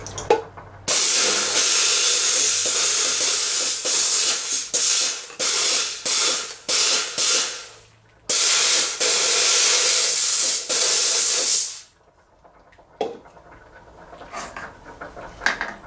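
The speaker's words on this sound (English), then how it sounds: "clean piece of jewelry using the steamer" Reliable 500CJ steam cleaner blasting a piece of jewelry with loud, hissing bursts of steam, several long sprays broken by short pauses, then stopping to near quiet.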